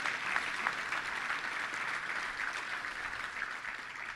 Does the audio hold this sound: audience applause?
yes